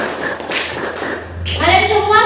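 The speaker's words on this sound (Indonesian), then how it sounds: "Tepuk tangan untuk Grace." A classroom of students gives a brief burst of applause for a classmate, lasting about a second and a half before children's voices take over.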